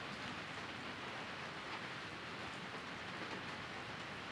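Steady rain pours in the Jack the Ripper detective game, a dense, even hiss of falling drops that stays constant and fairly quiet throughout, with nothing else standing out.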